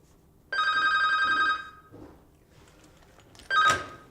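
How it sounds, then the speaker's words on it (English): A hospital phone rings on a ward while a doctor calls the medical registrar: a bright electronic ring of about one second, a pause, then a second burst starting, clear and close in a quiet room. "I'm going to ring the med reg just to alert them about this."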